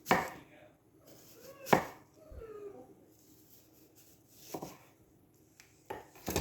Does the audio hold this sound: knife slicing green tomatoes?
yes